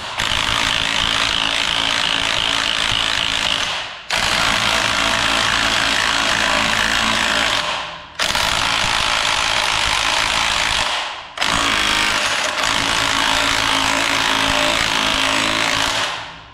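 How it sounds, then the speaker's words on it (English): A power drill bores out holes to enlarge them in metal truck hangers, grinding loudly in three long sustained bursts with brief pauses between, no talking. "Now I just need to bore them out just a little bit."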